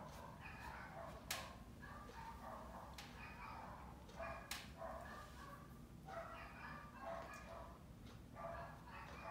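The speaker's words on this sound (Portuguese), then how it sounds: "Nesse momento é só o silêncio e o latido dos cachorros." Several dogs bark and yip repeatedly at a distance, in irregular bursts over a quiet background.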